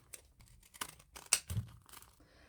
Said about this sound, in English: I like to use the crimping scissors.